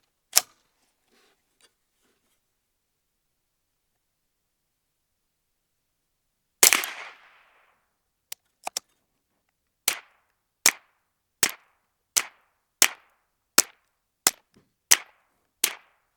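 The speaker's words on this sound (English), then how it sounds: "I'm gonna go ahead and shoot some groups with this" Derya Arms TM22 .22 rifle firing Auto Match ammunition, sharp cracks heard close, with a single shot, a louder report, a quick pair, then a steady run of evenly spaced shots over quiet background.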